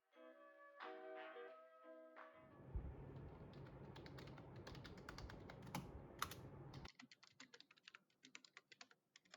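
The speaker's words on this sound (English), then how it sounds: "it's not silent, but relatively softer than a mechanic keyboard or an average standard keyboard" Typing on a Xinmeng N520 keyboard makes a dense run of soft, rapid key clatter close by. Individual key taps follow, some louder than others, after a brief stretch of music-like tones at the start.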